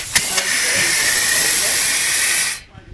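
A loud, steady hiss of escaping compressed air from the exhaust of a Briggs and Stratton engine converted to run on compressed air at about 50 psi, running continuously for a couple of seconds, then cutting off abruptly.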